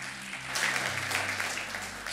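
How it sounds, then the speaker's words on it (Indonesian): A congregation at a Sunday evening church service breaks into applause, a steady wash of clapping of medium loudness over a low background hum, with no talking. "Tepuk tangan."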